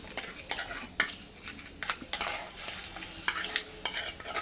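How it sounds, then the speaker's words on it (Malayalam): Crab curry being stirred in a pan, a soft continuous scraping and sizzling with irregular spoon knocks against the metal, close and fairly quiet, no talking. "ആദ്യം നമ്മളത് ഇളക്കി കൂട്ടുന്നു."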